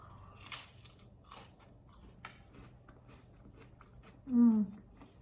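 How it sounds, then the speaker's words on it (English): Crunchy rice cakes are bitten and chewed with scattered crisp cracks up close, ending in a louder crunch; a voice is briefly heard. "I personally really love the crunch of the rice cakes."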